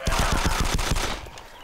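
Rapid automatic gunfire in the survival video game DayZ Epoch, a loud close burst of about eight evenly spaced shots in quick rhythm, then a brief fading echo and quiet tail.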